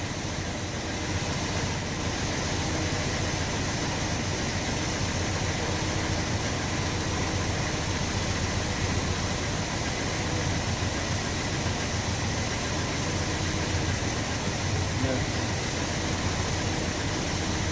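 A 1966 Chrysler New Yorker parked for 18 years, engine running: an unbroken, even mechanical drone with a broad hiss and low rumble that stays loud and constant throughout, no voices.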